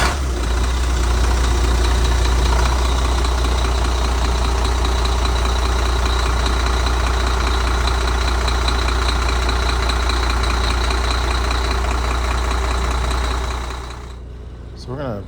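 A work truck idles steadily indoors in a shop, its heavy low rumble close and constant before cutting off near the end; people talk faintly beneath the engine.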